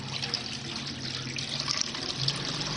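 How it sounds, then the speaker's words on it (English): Water poured into a pot, a steady close trickle and gurgle of filling liquid lasting throughout, soft and even. "add water"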